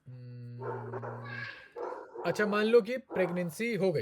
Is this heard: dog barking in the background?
yes